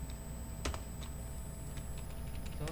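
A few scattered key presses click quietly on a computer keyboard during photo editing, two quick taps close together followed by lighter, sparser clicks over a faint steady hum.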